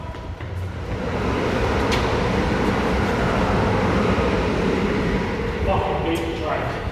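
A train rumbling past at close range, a loud continuous roar that swells after the first second and holds steady, with a faint voice nearby.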